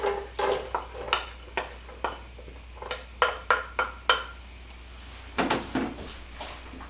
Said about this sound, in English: Now I'm adding my onions. This is a whole onion.